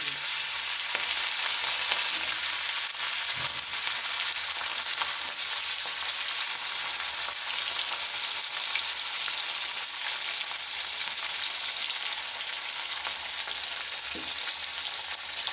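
Chela fish from the sea frying in hot oil in a kadai, a loud continuous close sizzle that stays even throughout, with occasional faint clicks.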